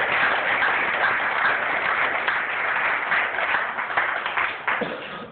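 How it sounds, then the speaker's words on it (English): Guests at a 25th wedding vow renewal ceremony applaud, a dense, steady wash of many hands clapping close by that holds for several seconds before starting to thin. "We got to give him a round of applause for that."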